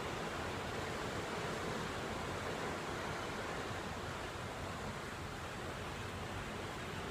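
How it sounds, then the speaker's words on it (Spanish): Sea waves at Viña del Mar, Chile, roar as a steady, dense wash of surf that holds at an even level throughout. "les quiero compartir el sonido de la abundancia del mar"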